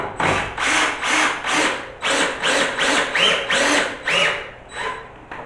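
A power drill, hammer mode off, drives a screw in a series of short, regular bursts, pulsing on and off about twice a second, close by.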